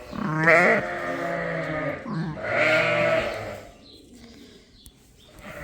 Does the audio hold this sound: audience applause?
no